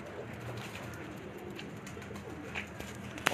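Pigeons cooing softly in a Sialkot pigeon keeper's loft, low murmuring coos blended into a steady background hum, with a brief clatter near the end.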